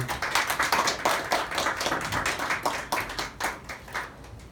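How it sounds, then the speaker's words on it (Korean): Church congregation clapping in praise during a Korean Bible lecture service, a loud, fairly rhythmic run of hand claps from many people, tapering slightly toward the end. "하나님께 영광의 박수 올려드리겠습니다."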